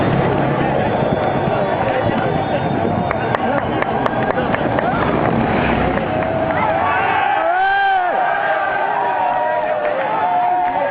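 A large roadside crowd cheers and roars along the cobbled Arenberg trench at the Paris-Roubaix bike race, a dense continuous din with a commentator talking over it.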